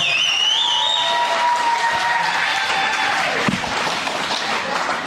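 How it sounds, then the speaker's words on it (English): Wedding guests applaud the newlyweds after a toast, a dense sustained round of clapping with a few cheers and whistles, slowly tapering near the end. "Once again, let's give them a big round of applause."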